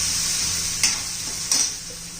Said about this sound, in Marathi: बारीक केलेली मिरची, लसूण, आल्याची पेस्ट घालायची आहे.